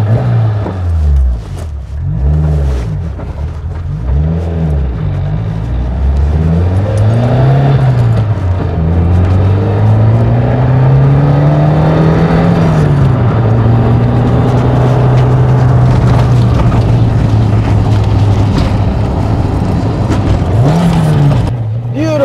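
Toyota AE86 with a 4A-GE engine and six-speed gearbox climbing a mountain road, loud and close, revving up through gears with rising and falling pitch, downshift blips, then a long sustained high-rev pull.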